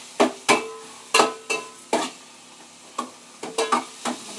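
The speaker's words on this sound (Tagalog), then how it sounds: "Nagigisa na po ako." Tomatoes are sautéed in a pan with repeated sharp scraping and stirring strokes in an uneven rhythm, close and fairly loud, over a soft sizzle.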